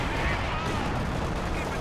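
A KV-2 tank's heavy cannon fires amid a dense Company of Heroes 2 battle, a thick, roaring blast of artillery and gunfire filling the whole short stretch with no pause.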